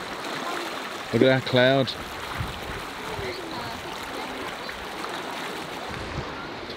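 A river pours out into the sea at Ballycastle, Antrim, its steady rushing wash filling the scene from start to finish while a person speaks briefly near the beginning.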